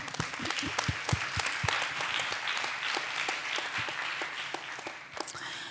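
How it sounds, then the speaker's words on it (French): An audience at a talk on dance applauds after a voguing performance, with a sustained round of clapping in which a few sharp, nearby claps stand out before it tapers off. "Bon, je pense qu'on peut applaudir quand même."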